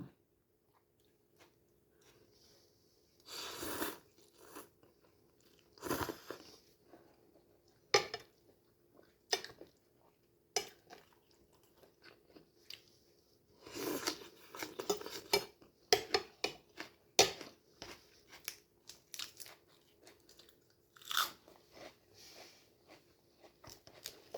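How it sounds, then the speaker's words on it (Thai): Crunchy squid tentacles from a spicy glass-noodle salad are chewed in uneven bursts of crisp, close bites, with occasional clinks of cutlery and dishes between quiet pauses. "หนวดปลาหมึกกรุบกับดีดีพี่น้อง"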